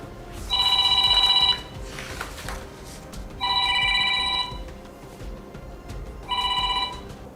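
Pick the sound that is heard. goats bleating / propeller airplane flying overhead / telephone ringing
telephone ringing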